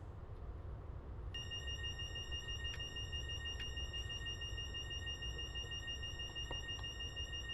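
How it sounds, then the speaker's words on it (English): Fire alarm in the cab of a Great Western Main Line train running near 125 mph with an engine failed, a steady high electronic tone sounding over loud rumbling cab noise. "Is that the fire alarm again?"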